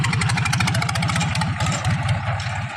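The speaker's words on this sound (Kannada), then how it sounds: "ಸೈಲೆನ್ಸರ್ ಇರ್ಲಾರ್ದ ಸೌಂಡ್ ಹೆಂಗೆ ಬರ್ಕತೈತಿ ನೋಡ್ರಿ" A 45 HP tractor engine runs with its silencer removed, giving a loud, raw, rapidly pulsing exhaust beat that stays steady and close throughout.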